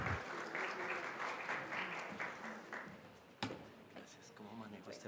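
An audience at a medical lecture on HIV and the nervous system breaks into applause, a dense wash of clapping that fades then swells briefly before tapering, with some voices mixed in.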